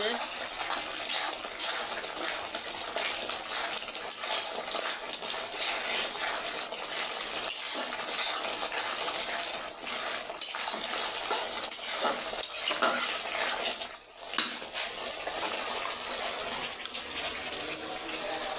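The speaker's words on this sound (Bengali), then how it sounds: "এদিকে মশলা কষাচ্ছি" Spices being sautéed in a pan for a meat and potato dish, a steady broadband sizzle with scraping stirs and utensil clatter running continuously, with a brief dip near the end.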